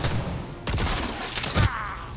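Gunfire in Cyberpunk 2077 comes as two heavy bursts about a second apart, the second punchier and deeper, layered over dense, continuous game action noise.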